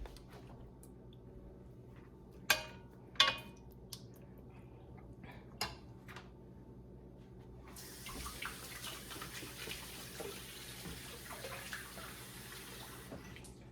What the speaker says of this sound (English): Wash your hands with soap.